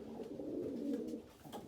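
Racing pigeons in a loft give a soft, low cooing burble, one faint continuous coo with a brief second note, heard alone.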